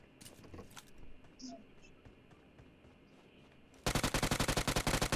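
Rapid automatic gunfire in a PUBG Mobile-style shooter game, a loud dense burst of evenly spaced shots arriving suddenly after quieter scattered game sounds and distant shots.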